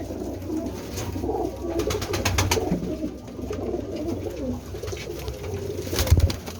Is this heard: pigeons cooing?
yes